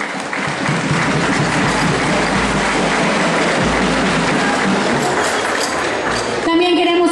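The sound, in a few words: audience applause at a pageant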